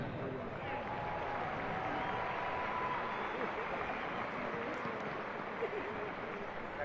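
An outdoor audience at a West Point commencement ceremony applauds the West Point Band, a dense, continuous wash of clapping from a large crowd that holds steady at moderate distance throughout.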